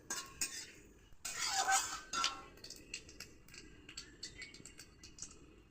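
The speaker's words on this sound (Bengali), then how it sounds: "জিরেটা সামান্য একটু নাড়াচাড়া করে নিচ্ছি" Cumin seeds fried with dried chilli and bay leaf in hot oil, stirred with a utensil: soft, faint clinks and scrapes against the pan in irregular bursts, with a quiet background.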